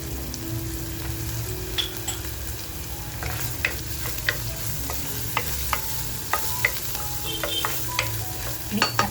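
Green masala with turmeric frying and being stirred in a pan, a steady close sizzle with scattered pops and crackles throughout, and light scraping from the stirring.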